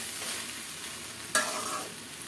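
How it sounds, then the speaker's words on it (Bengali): Rice being stirred in a sizzling pan, a soft continuous fry broken by one sharp scrape of the utensil midway. "উল্টে পুলটে নাড়াচাড়া দিয়ে মিশাই দিব"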